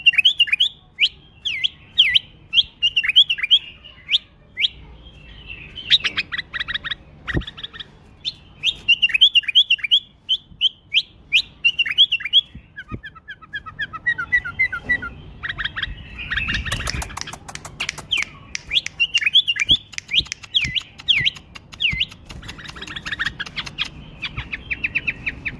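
A bulbul sings close and loud in bright, repeated whistled chirps and quick warbling phrases separated by short pauses, with a stretch of rapid, harsher chatter midway. No one speaks.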